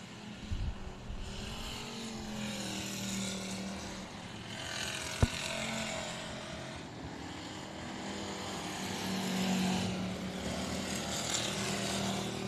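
B factory stock race cars roar around I-37 Speedway in a main event, a sustained distant engine drone with passing swells and a sharp click midway, no voices.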